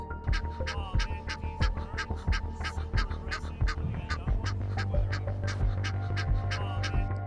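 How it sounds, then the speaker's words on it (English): A gaggle of geese on a golf course honk repeatedly in loud, rapid overlapping calls, a dense rhythmic chorus close by with a low steady drone beneath. "a gaggle of geese were caught on camera chasing away an alligator on a golf course"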